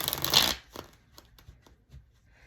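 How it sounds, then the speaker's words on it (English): A burst of cards being riffled and shuffled, followed by softer flicks and taps of cards settling, close and fairly quiet. "I'm just going to do a couple more shuffles here for the fire signs"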